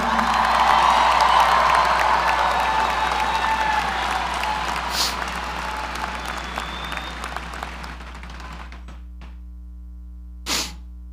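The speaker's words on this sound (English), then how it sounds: "Join me in a big, big hoop and holler and a round of applause for all those who did for you." Graduation ceremony crowd in an arena applauding and cheering, loud and dense at first, then gradually thinning into scattered claps and fading out, with a last brief burst near the end.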